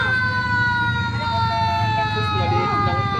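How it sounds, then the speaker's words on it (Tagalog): Loud, close fire truck siren wailing in a steady rising tone as the engine arrives at a house fire in Angeles City, with truck engine rumble underneath. "Oh, may bumbero na naman dito dumating."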